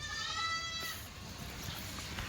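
Kathiawari goats bleat in a pen, a wavering, nasal call near the start followed by quieter farm background noise.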